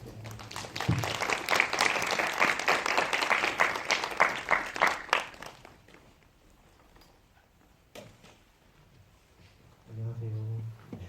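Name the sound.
audience applause at film festival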